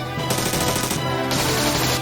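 Airship cannon in a video game firing a rapid, sustained volley of loud, close blasts that run together with no pauses, no voices.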